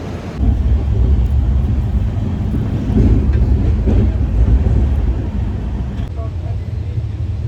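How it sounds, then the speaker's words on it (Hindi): Train pulling out on a Mumbai to Ahmedabad route, a steady low rumble of the moving carriage with wind noise, loud and continuous, with voices in the background. "टाइम पे आने के बाद ट्रेन छूट रही है"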